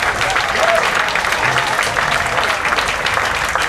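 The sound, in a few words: audience applause at banquet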